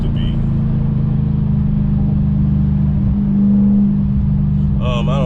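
Supercharged Audi B8.5 RS5 with a JHM exhaust, a steady loud low engine drone running throughout with a slight dip and recovery around a gear change near the middle, close and continuous.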